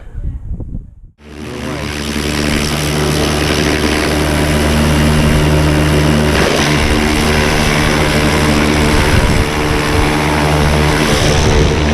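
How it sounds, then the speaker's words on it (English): A pressure washer starts after a brief moment of quiet, then runs with a loud, steady motor drone and high-pressure hiss close by, holding constant to the end. "Yeah, I think I'll get my jet wash onto that."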